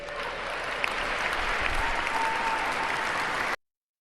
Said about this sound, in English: you got the people clapping